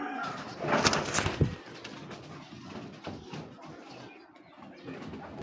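Giribaz pigeons coo softly at close range, with a brief louder flutter near the start and low cooing continuing over faint background noise.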